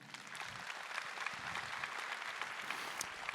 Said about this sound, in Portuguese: E eu queria que você se aplaudisse nesse momento.